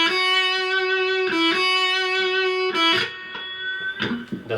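An electric guitar plays the No Straight Roads main theme with a lightly driven tone, sustained notes ringing clearly with a small bend, then some quicker picked notes near the end, close and alone.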